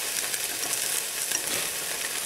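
A mozzarella cheese omelet fries in a pan with a steady, bright, hissing sizzle that holds evenly throughout, with no voices.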